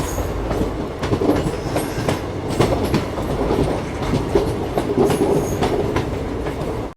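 Nagpur-Shahdol Express passenger train running steadily, heard from inside a coach, with continuous loud rumble and repeated clickety-clack of wheels over rail joints throughout.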